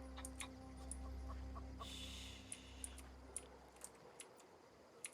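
A chicken in the video game The Outer Worlds clucking, a series of short sharp clucks at irregular intervals over a low steady hum, fairly faint and with no talk.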